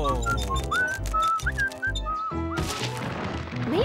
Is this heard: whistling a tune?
yes